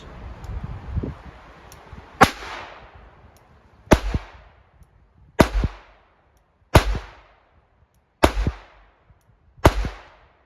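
Six sharp gunshots from a .32 S&W Long revolver firing wadcutter rounds on an outdoor range, evenly spaced about 1.5 seconds apart, each a loud crack with a short decaying tail, after faint rustling.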